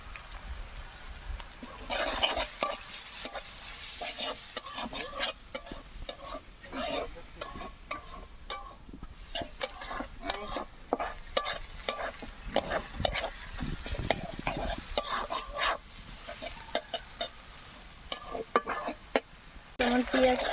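Spices fry with bele fish and tomato in a pan, sizzling softly while a spatula stirs and scrapes in irregular bursts.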